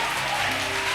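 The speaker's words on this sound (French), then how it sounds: "Acclame très fort Jésus." Congregation at a church service applauding and cheering in acclamation of Jesus, a dense continuous wash of clapping and crowd noise throughout, loud and steady.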